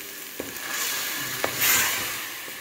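Garlic-ginger masala frying in a pan as water and tomato paste are added and stirred, a soft sizzle that swells briefly, with a few light knocks of a spoon against the pan.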